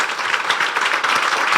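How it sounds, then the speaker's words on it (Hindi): Steady applause from a church congregation during a Palm Sunday service, a dense continuous wash of many hands clapping that stays loud and even throughout. "आपकी भरपूर तालियों में पास्टर हारून मोइन"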